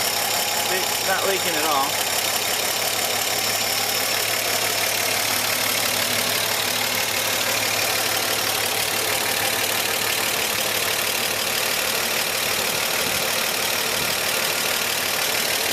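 A 1954 Chevy 3100 pickup truck with Hydramatic transmission idles steadily and quietly throughout, a continuous low engine drone under a man's speech.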